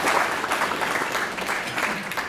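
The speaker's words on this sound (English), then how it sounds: "So let's give that a big round of applause." An audience applauding at an evening awards event, a moderate, dense patter of clapping heard from the room, steady for a couple of seconds with no voices over it.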